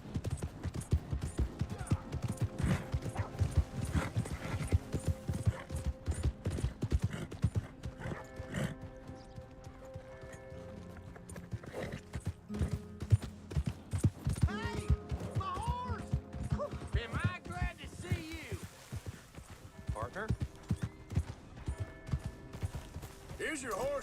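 Hooves clip-clop steadily from a horse in the open-world Western game Red Dead Redemption 2, with a whinny heard along the way, mixed with game music and ambience and sitting under occasional spoken dialogue.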